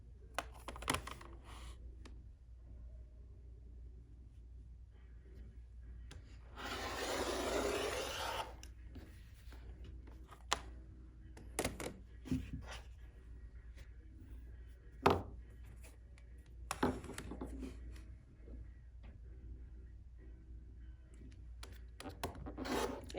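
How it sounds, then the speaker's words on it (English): Quilting fabric cut into strips for a fat quarter project, heard as a few sharp cutter and handling clicks, a longer rasping rub in the middle, and soft rustles and taps spread through an otherwise quiet room. "I need to cut 2 more strips"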